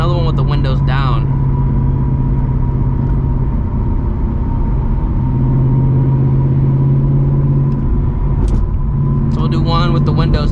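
A stripped, weight-reduced Ford Mustang GT S650 is driven with the windows up. Its engine drones and swells under a pull, a loud steady rumble with rising pitch, and there is brief chatter near the start and end.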